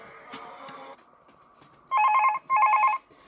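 Two loud, bright bursts of a telephone bell ringing in the video game Five Nights At Thomas's 2 come after a quieter stretch with faint background sounds, each ring lasting about half a second.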